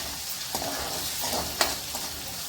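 Onions and flat beans frying with salt in a pan while being stirred, a continuous close sizzle broken by a few soft scraping strokes of the spoon, no talking.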